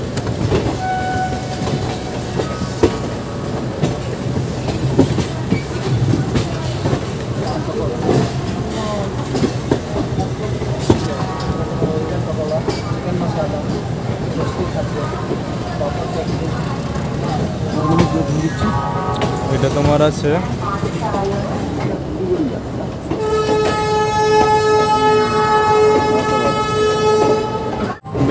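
Paharia Express train rolling along the rails toward Howrah Junction, a steady loud rumble and rhythmic clatter throughout, with a brief voice speaking and a whistle-like tonal sound near the end.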